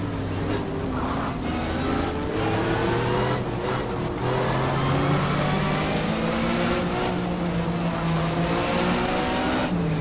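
A Porsche race car in a racing video game holds its engine near the rev limiter, a loud, continuous high-pitched whine with steady harmonic drones that climb and shift slightly with gear changes, close and unbroken for the whole stretch.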